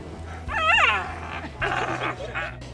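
Young police K9 puppies whimper and yip in short, high, wavering cries, one longer whine followed by a few briefer ones, close by over a low steady background hum.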